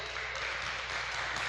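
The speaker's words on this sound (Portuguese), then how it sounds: "Palmas para vocês" An audience claps at a talk on the conscious and unconscious mind, a dense, even wash of applause sustained through the whole short stretch without a voice over it.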